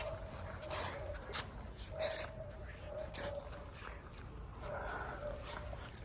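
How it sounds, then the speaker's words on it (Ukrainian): Faint dog barks ring out sporadically from a distance over low outdoor background noise. "Десь собачки гавкають"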